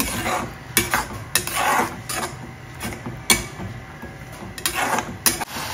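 A spoon scrapes and knocks against a pan while stirring tomato puree for squid masala, with repeated sharp clinks and a soft sizzle running between them, close and unaccompanied by speech.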